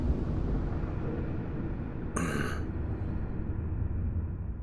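Turret gunfire striking the player in Starfield, heard as a steady loud roar of blasts with a sharp burst of impact just past the midpoint.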